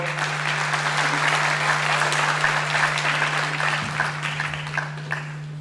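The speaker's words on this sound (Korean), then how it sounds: "큰 박수로 맞이해 주십시오" An audience at an Anyang FC citizens' public hearing applauds to welcome the next speaker, a steady, even burst of clapping lasting several seconds over a low electrical hum, with no talking.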